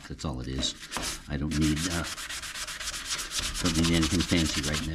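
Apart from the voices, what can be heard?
sanding a car fender with a sponge sanding block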